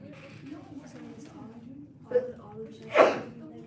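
A single sharp sneeze bursts out near the end, louder than the ongoing conversational talk of a precalculus study session.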